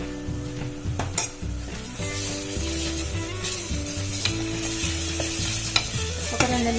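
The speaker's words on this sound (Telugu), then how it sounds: "ఒక 2 నిమిషాలు బాగా ఆయిల్లో ఫ్రై చేయాలి, పచ్చి వాసన పోయేంత వరకు" Ginger garlic paste sizzling in hot oil for a potato mutton gravy, stirred continuously with a spoon scraping the pan, with scattered metallic clinks; close and steady, no talk.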